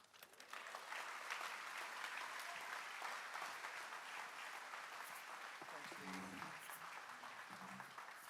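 An audience at an optometry college white coat ceremony applauds to welcome a band, sustained clapping from a large crowd running steadily throughout, with a few voices briefly audible near the end.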